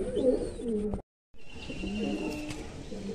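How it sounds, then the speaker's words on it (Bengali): Kalodana pigeons in a loft coo in soft, rounded repeated notes close by, with a brief silent gap midway before the cooing resumes alongside faint chirps. "কালো দানা আইসের পায়রা আছে"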